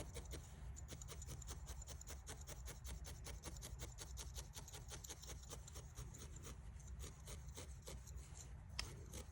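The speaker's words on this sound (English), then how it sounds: "You can needle felt this area a little bit more." A felting needle stabs repeatedly into wool while shaping a small felted fox ornament, making quiet, rapid scratchy pokes in a steady rhythm, close and faint, with no voice over them.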